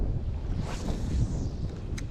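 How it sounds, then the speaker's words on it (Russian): Strong wind gusts buffet the microphone beside a river during a fishing trip, with small waves stirred up on the water; a steady, loud rumbling roar with no speech. "Сильный ветер даже здесь."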